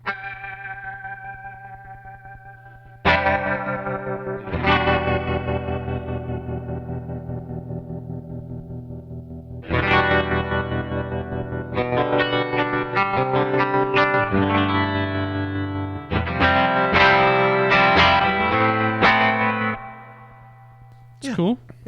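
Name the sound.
guitar effects pedal with stutter, chorus and reverb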